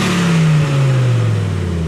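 A 1995 Audi Ur S6 five-cylinder on its original exhaust revs and lets off, its pitch sliding down in a smooth throaty drone, loud and close for a brief moment.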